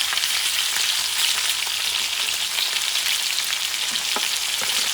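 Butter and garlic sizzle in a hot pan around a T-bone steak, a steady, loud crackling fry that holds evenly throughout with faint popping and no talk.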